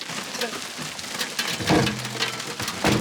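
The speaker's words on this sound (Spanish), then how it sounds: "Una locura esto, está lloviendo ahí." Large raindrops patter continuously on a surface nearby, with a few heavier drops landing louder among the steady hiss.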